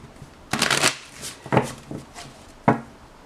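Tarot cards get shuffled close by in a few quick riffling bursts separated by short pauses, each a crisp papery flutter with a soft tap at the end.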